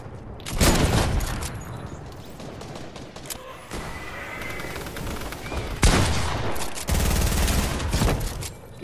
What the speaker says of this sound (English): use the Tommy gun